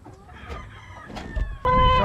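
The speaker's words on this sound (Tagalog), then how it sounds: "May mga inahin ni Boss Norman" Hens on a Filipino farm cluck and call close by, with short squawks building to a loud sustained call at the end, no talking.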